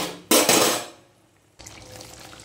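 Hot water hits a pot of cooking potato curry with a sudden loud splashing sizzle that fades over about half a second. A quieter, steady hiss follows after a short lull.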